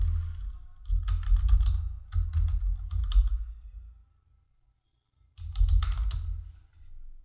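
Fingers type a company name into an online tax-return form on a computer keyboard, with two bursts of rapid clicking keystrokes separated by a short pause, then another quick run of keys. No one speaks.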